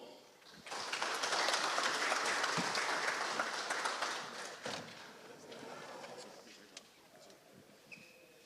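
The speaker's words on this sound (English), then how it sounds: "Let's have a round of applause for them." Crowd applause at a high school football media day, honoring the Gates County Red Barons team; sustained clapping swells quickly, holds strong for several seconds, then thins out into scattered claps and light chatter.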